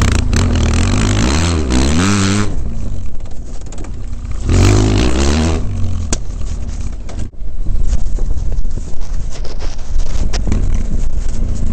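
BMW F 800 GS motorcycle ridden off-road near Agadir, its engine revving up and easing off in smooth surges with some wind buffeting, loud and close throughout.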